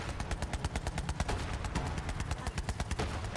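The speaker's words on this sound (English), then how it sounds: "Something about the gun just sounds a lot more satisfying than it used to." Rapid automatic gunfire from a weapon in Borderlands 3 rattles in a fast, even stream of sharp loud shots, about a dozen bursts per second, sustained across the whole span with no talking.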